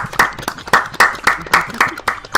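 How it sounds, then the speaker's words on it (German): A group of young men claps in steady rhythm, about a dozen sharp, fairly close hand claps in quick even succession with no pause. "Einmal alle klatschen, Jungs,"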